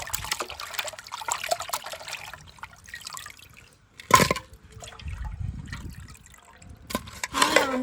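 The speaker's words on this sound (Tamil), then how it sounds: "வந்து நல்லா 2-3 தண்ணியில் நல்லா அலசிக்கிடுவோம்." Water running and splashing in bursts while freshly cleaned fish is rinsed in two or three changes of water in a home kitchen, with louder gushes near the middle and end and a faint background murmur between.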